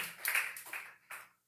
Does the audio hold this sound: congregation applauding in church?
yes